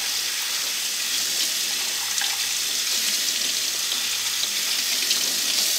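Lukewarm water pours from a tap into a sink in a steady, close, fairly loud hiss that runs unbroken throughout, with no voices.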